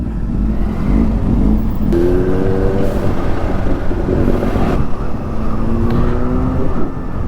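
A Kawasaki Ninja ZX-10R sport bike roars loudly nearby on a mountain road, its engine rising in pitch through repeated revs and gear changes, with no talking.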